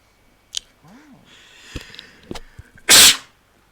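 A single loud, sharp sneeze bursts out near the end, preceded by faint rustles and small clicks.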